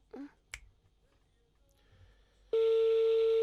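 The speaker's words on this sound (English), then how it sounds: "So now we dey call for phone now." A telephone call placed during a Nigerian broadcast: a few quiet room clicks and a sharp snap, then a loud, steady ringing tone comes in abruptly and holds unbroken to the end.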